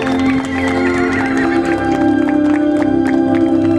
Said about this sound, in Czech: se nám představí domácí zástupce stáje Ladislav Kratochvíl na koni Essex